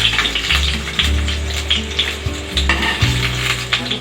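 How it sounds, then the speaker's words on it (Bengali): Potato pieces fry in hot oil until reddish-brown, giving a steady close sizzle with intermittent stirring scrapes and clatter throughout, no voices. "আলুগুলোকে আমি একটু লাল লাল করেই ভেজে নেব"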